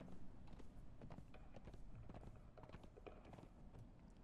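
An undead horse in the game Conan Exiles walks with a soft, steady clip-clop of hooves, the footfalls faint and evenly paced under a low background hum, with no talking.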